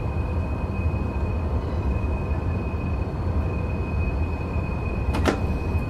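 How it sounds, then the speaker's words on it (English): An APT tilting train with two power cars runs in Train Sim World 2022, a steady loud rumble and rail roar throughout, with a brief sharp clack near the end. "it is a very, very, very powerful train"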